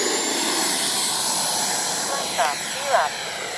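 An FMS 80mm F-86 radio-controlled electric ducted-fan jet model flies overhead with a steady high whine, and two faint chirps rise near the end.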